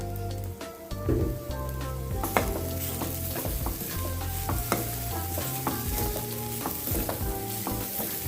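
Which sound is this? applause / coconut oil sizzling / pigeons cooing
coconut oil sizzling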